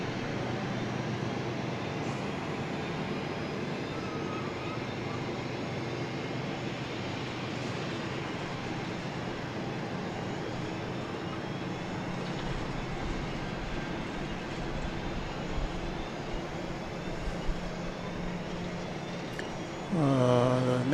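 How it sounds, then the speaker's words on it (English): A medevac aircraft landing on runway 31 right at Dallas Love Field at night, a steady distant engine roar that builds slowly across the clip, with a brief radio squeal at the end. "Sounds like we've got a medevac flight coming in on here on 31 right on this side of the airport."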